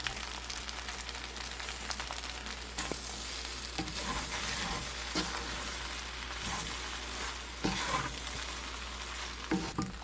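Egg pasta with pepper is stirred and fried in a pan, giving a continuous close sizzle and crackle with scattered scraping strokes of a spoon and no speech.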